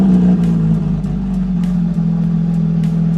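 A twin-turbo Lamborghini Huracan engine holds a loud, steady, close-up drone with a throaty low rumble, rising slightly at the start and pulsing gently throughout, with no voices over it.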